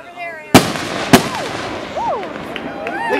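Fireworks at a 2010 display, with two sharp loud bangs close together early on, followed by rising whistling tones and crackle. Scattered voices talk in the background throughout.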